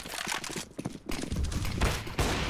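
Rapid bursts of rifle fire rattle through a CS:GO match at a Chennai esports tournament, dense overlapping shots filling the short stretch with a few brief gaps.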